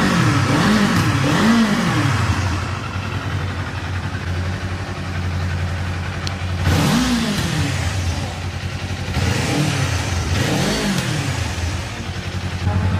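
A 2024 Kawasaki Z500 SE motorcycle engine running hot with its radiator fan on, a steady mid-pitched idle broken by several rising-and-falling revs, close and loud with no talk.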